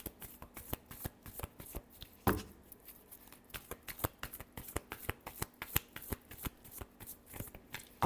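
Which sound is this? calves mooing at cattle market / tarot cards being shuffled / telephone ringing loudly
tarot cards being shuffled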